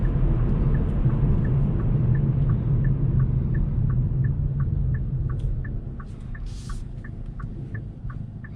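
A 2021 facelifted Hyundai Veloster N on summer tires cruises along a highway at night, heard from inside as a steady, loud low engine and road drone with a faint repeating chirp, easing slightly toward the end.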